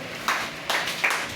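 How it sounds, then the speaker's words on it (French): A church congregation at a worship service applauds in a short, fairly faint burst of clapping, with a few louder swells and no speech over it. "Acclamez Jésus pour Kétia."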